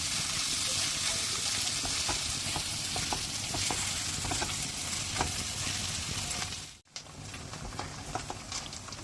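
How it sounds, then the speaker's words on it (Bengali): Rui fish pieces frying in hot oil in a pan, a steady loud sizzle with occasional stirring scrapes, briefly cut off near the end before resuming. "এই মাছগুলি আমি একটু কষিয়ে নেব, ভেজে নেব তেলের মাধ্যমে।"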